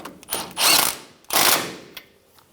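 A tool tightens the outer tie rod nut on a 2005-2010 Toyota Tacoma during front suspension work, giving two short close mechanical whirring bursts with faint clicks between them.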